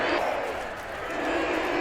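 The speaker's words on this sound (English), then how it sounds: "The crowd is really annoying." Stadium crowd noise in the video game Madden 22, a steady loud wash of massed voices and roar through a short span with no distinct talk.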